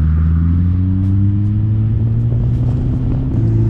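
Volkswagen Golf R cruising on a highway, a steady loud engine drone and road rumble with firm low harmonics that rise slightly as it holds speed, no voices.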